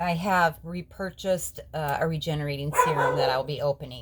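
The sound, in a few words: dog barking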